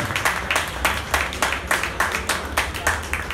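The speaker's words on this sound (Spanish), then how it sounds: "Un aplauso, por favor, para la motocicleta" An audience applauds at the launch of the 2020 Kawasaki Z 650 motorcycle, with steady, rhythmic clapping from a crowd that swells and dips across a few seconds.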